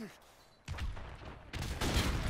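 Gunfire in Modern Warfare Remastered comes as dense, loud bursts of rapid shots, starting after a brief quieter moment and then intensifying in a second volley.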